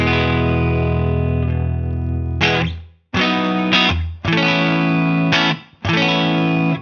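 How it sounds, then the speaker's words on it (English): Distorted electric guitar with chorus and echo, run through a Guitar Rig 6 tube compressor for a signature rock guitar tone, plays a long sustained chord then several strummed chords with brief gaps, loud and even in level. "That's the sound with the compressor."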